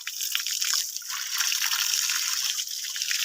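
Water rushes steadily from a tap in a strong, constant hissing flow, close by and without any voices.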